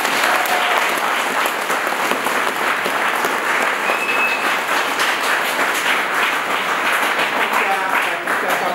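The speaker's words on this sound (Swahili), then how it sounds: "Pigieni makofi mengi sana." Crowd at a political gathering in Ludewa district, where 150 school desks are being handed over, applauds loudly and steadily for about nine seconds, a dense, continuous wash of clapping with some crowd noise mixed in.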